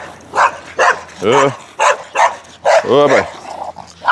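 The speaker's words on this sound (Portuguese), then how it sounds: "Olha, lá vai cachorro" Dog barking several times in short bursts with a whimpering, yipping edge, loud and close, while people talk over and between the barks.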